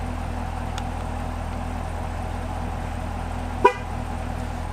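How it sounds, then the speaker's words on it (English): A single short honk from a Chevrolet Camaro horn during a TPMS tire sensor relearn, sounding once, near and clear over a low steady background hum. "Alright, so the horn honks, we're good there."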